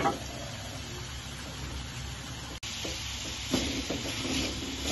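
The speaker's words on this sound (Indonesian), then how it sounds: "Kita tumis sampai bumbunya berbau harum, sampai wangi." Spice paste and chicken broth sautéing together in a pan for Padang-style grilled fish, a steady close simmering sizzle with occasional stirring scrapes, no talk.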